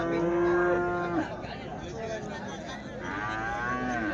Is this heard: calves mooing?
yes